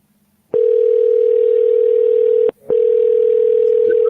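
Telephone line tone during an outbound call to a real estate lead, a loud steady pure tone that starts abruptly, breaks briefly, then resumes, with no other sound around it.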